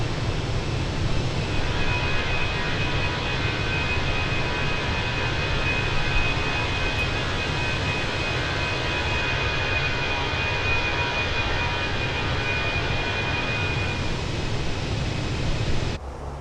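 Steady broadband roar of Airbus A320 jet engines at cruise in a flight simulator game, continuous and unchanging with a faint high tone running through it.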